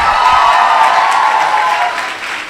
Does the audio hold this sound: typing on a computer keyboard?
no